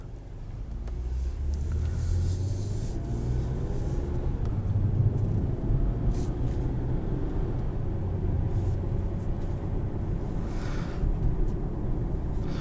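Interior of a 2019 Toyota Camry XSE V6 pulling away after being shifted into drive, a low steady engine and road rumble inside the cabin with scattered faint clicks and rustles, no talk.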